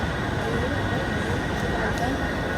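Rumbling interior of a crowded moving underground metro train in Mumbai, a steady broadband drone of wheels and carriage noise that runs throughout, with faint crowd voices mixed in.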